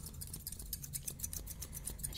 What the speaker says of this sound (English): I just need to use my scissors here to kind of get like an idea, get an aura of your hair.